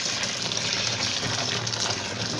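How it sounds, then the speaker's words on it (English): Hot water is poured onto snails in a rubber tub, giving a continuous loud gushing splash close by with no break. "I want to use hot water to take the"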